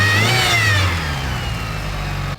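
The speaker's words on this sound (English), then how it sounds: "Something's making noise with the serpentine belt." Mitsubishi Evo VIII engine revving hard, with a noisy serpentine belt adding a whining, squealing edge that rises with the revs, then settling back toward idle; loud and close, no voices.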